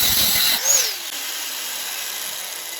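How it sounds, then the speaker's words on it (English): A Makita angle grinder fitted with a 4-inch cutting disc whines at high pitch as it spins up, then holds a steady, loud, continuous drone. "I have my Makita with a 4-inch cutting disc on it"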